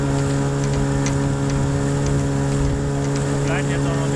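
A 6 hp outboard motor pushes an inflatable boat, droning with a steady tonal hum at close range against wind and water noise, its pitch holding constant throughout.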